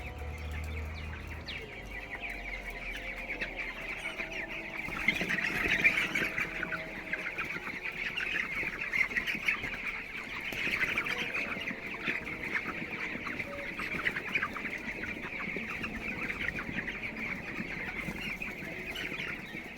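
A crowded shed of broiler chickens in winter keeps up a continuous, overlapping chorus of soft clucks and chirps. The flock is heard at a steady, moderate distance with no talk.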